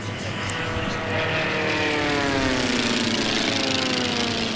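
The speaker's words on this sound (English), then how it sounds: "Should be 3 planes left, and there they are" Formula One class racing airplanes at the Reno Air Races sweep past together, a loud droning engine roar with a sliding pitch as they pass, steady and close throughout.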